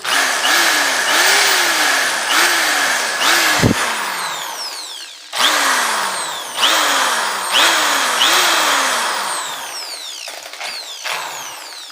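A Lotus HD750X impact drill runs in repeated bursts, loud and close, each spinning up and winding down in a whine, with brief pauses and a sharp knock between runs.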